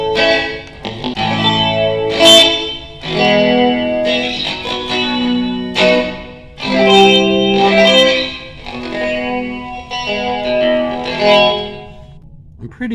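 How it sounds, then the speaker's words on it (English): Electric guitar played through a DSP reverb chip rewired as a guitar pedal, set to a swirling flanger effect; strummed chords and picked notes ring out in phrases, loud and alone without talk. "I'm pretty sure that's a flanger now. It went from chorus sounding to flanger."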